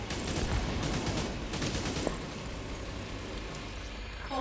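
Gunfire in The Division 2, with an allied droid shooting: rapid bursts of automatic fire rattle through the opening seconds, then thin into scattered shots over a low background rumble, no voices.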